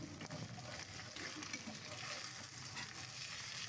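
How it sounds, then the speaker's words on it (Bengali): Eggs frying in a pan on the stove give off a steady, close hiss and crackle of sizzling oil, constant and even throughout with no talk over it. "আর অন্য চুলায় এই যে ডিম পোস্ট করে নিচ্ছি"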